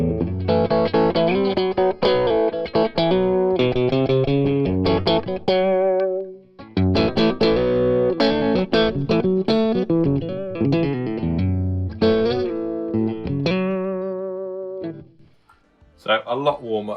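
Electric guitar playing chords and single-note runs through a U97 amp simulator impulse response with the power amp left in, a clean-to-mildly-driven tone with a short pause midway, no talking.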